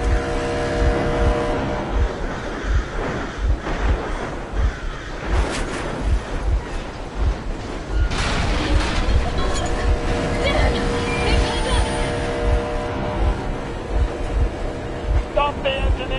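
A vehicle engine runs steadily in a tense video game scene, a continuous mechanical drone with rumbling low end under a layer of game ambience and speech-like sounds.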